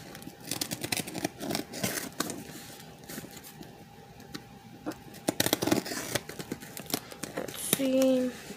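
A mailed package opened carefully by hand, with scissors snipping and paper and plastic crinkling and tearing in close, busy bursts, ending in a short mechanical whir.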